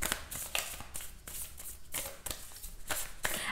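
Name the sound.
shuffling tarot cards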